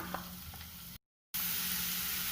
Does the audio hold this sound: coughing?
no